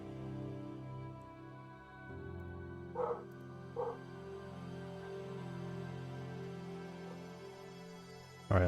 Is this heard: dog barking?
yes